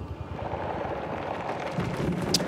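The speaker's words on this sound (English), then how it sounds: "Is it storming? Yes, now I can jump in the rain." Steady rain with low rumbling thunder in the video game Somerville, a dense continuous wash of noise that stays loud and even throughout, with no talking.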